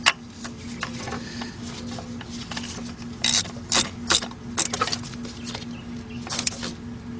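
A ratchet wrench tightens the water pump bolts on a Cadillac engine, giving several short bursts of quick mechanical clicking at close range over a steady low hum, with brief pauses between the bursts.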